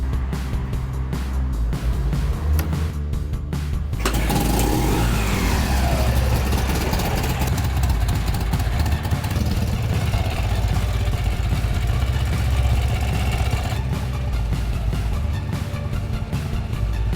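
A Warbike motorcycle engine runs steadily, rising into revs and settling back to idle, loud and close throughout, with no talking.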